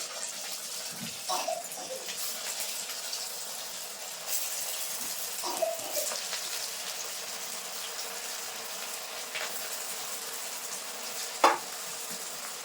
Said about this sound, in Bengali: এই যে বড়াগুলো দিয়ে দেবো তেলের ভিতর